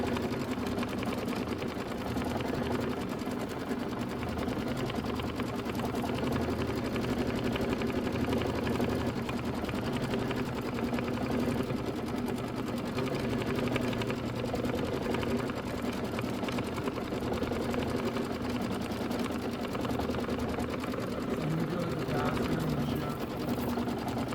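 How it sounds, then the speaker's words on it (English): An embroidery machine stitching an applique placement line for an ice cream cone design, a continuous rapid mechanical chatter throughout, close and steady with a voice talking over it at times. "let's go ahead and do our placement stitch for our ice cream cone"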